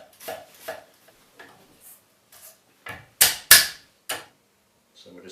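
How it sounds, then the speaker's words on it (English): Kitchen knife chopping half an onion on a cutting board for mussels: sharp, irregular taps close by, a few soft and a pair of louder thuds, separated by short silences. "we're just going to finely chop this onion."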